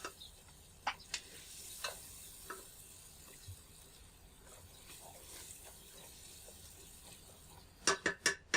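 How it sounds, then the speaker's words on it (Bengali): Chili powder and other spices sizzling softly in a pan for Saudi camel meat kabsa, with faint frying crackle and a few sharp scrapes and clicks of stirring spread through the clip, ending in a quick cluster of louder clatters. "তো সবকিছু আমি দেওয়ার পরে আমি 2 মিনিট এভাবে কষিয়ে নিব"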